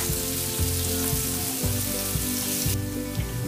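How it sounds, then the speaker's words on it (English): Paneer and vegetables frying in a pan on a high flame, a continuous close sizzle with periodic stirring or flipping bumps, no talking. "Fry it on a high flame."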